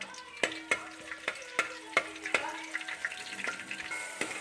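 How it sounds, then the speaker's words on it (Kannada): Green chilies frying in a pan, with a quiet sizzle broken by a regular series of sharp spatula taps and scrapes, roughly every half second, fading into lighter stirring; no talk. "ಮೆಣಸಿನ್ಕಾಯಿ ಹಾಕಬೇಕು. ನಾನು ನೀಟಾಗಿ ಫ್ರೈ ಮಾಡ್ಬೇಕು."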